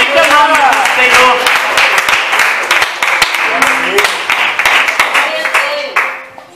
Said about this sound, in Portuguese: Vamos receber o servo de Deus com palmas, que salva.